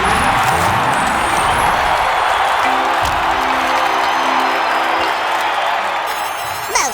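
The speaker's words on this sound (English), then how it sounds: "Mouse exiting to tumultuous applause." A large crowd applauds and cheers in a loud, dense roar of clapping and whoops that holds steady throughout and eases slightly near the end.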